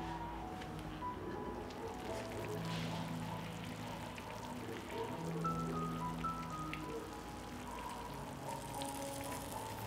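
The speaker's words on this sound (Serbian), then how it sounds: "to sipam vruću vodu" Hot water pours over sarma in a baking dish, a faint steady trickling and splashing stream, quiet and close.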